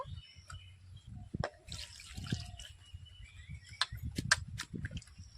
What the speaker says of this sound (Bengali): এবার ভালো করে ধুয়ে নেব